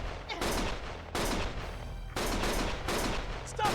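Sustained bursts of rapid gunfire in the Lost Judgment video game, loud and continuous with a few brief pauses, forming a dense barrage with no clear gaps between shots.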